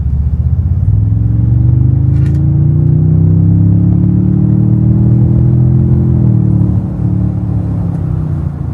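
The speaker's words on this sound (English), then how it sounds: "enter fake V8 noise." A 2024 Toyota Tundra TRD Pro's six-cylinder engine drones loudly as it accelerates onto a freeway, its deep artificial V8 growl rising slowly in pitch, then easing off near the end.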